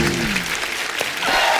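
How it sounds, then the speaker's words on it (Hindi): Studio audience applause welcoming a guest onto a comedy interview show, a brief, dense burst of clapping from many hands, with a faint tonal sound at the start. "आइए आप सबकी तालियों के बीच स्वागत करते हैं मिस्टर कोरोना का।"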